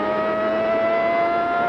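A 1992 Formula One car running almost at idle on a wet track gives a steady, sustained engine drone with a high, constant whine and no revving.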